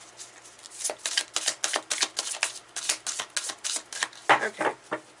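Tarot cards being shuffled by hand, a quick run of crisp riffling bursts in steady rhythm, close and fairly quiet with no talking.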